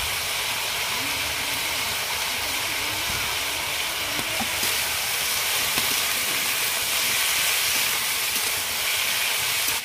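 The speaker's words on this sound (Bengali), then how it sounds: "হলুদ দিয়ে আমি কিছুক্ষণ সবজিগুলো ভেজে নিয়েছি" Vegetables fry in a hot pan with a little turmeric, giving a steady, loud, broadband sizzle that holds unbroken throughout, with no talking over it.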